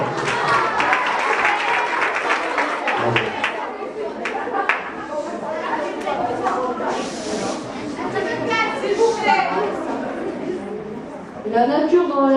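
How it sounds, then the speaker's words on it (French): A school audience at a storytelling performance in a Nice secondary school claps loudly and steadily, with children's chatter and voices mixed in over the applause. "On applaudit très fort."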